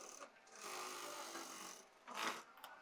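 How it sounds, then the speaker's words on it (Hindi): A sewing machine stitching the side seam of a pair of trousers, giving a faint, soft whirring run that pauses briefly and then starts again, close by and quiet. "अब इसको इस तरह से ओपन करेंगे और साइड में पॉइंट की सिलाई लगाएंगे।"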